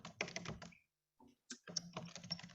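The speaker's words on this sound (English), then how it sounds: "I will ask if you're typing away to mute yourself because I hear some typing" Computer keyboard typing rattles in quiet bursts of rapid key clicks, pausing briefly before resuming, close but soft, with no voices.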